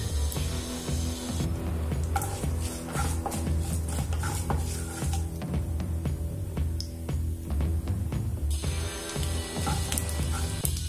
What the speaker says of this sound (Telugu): 1 స్పూన్ మినపప్పు, 1 స్పూన్ శనగపప్పు వీటిని వేసి బాగా వేపుకోవాలి.